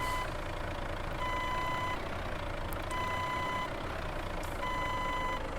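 Reversing beeps of a truck in Euro Truck Simulator 2 sound as three steady, evenly spaced electronic tones over a constant low engine drone, faint and without voices.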